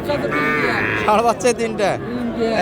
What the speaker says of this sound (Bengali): একটা গরু বাচ্চা ষাড়